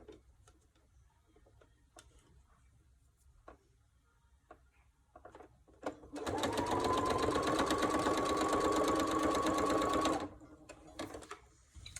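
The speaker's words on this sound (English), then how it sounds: "we will sew straight across the top." A sewing machine stitches straight across ribbon trim in one continuous run of about four seconds, a close, fast, even whirring chatter, with quiet handling noises before and after.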